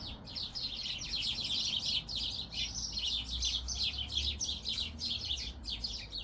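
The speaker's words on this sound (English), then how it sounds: "I think we have baby birds fledging." High, rapid chirps from fledgling baby birds keep going throughout a garden scene on an early summer morning, soft and somewhat distant over faint low outdoor background noise, with no talking.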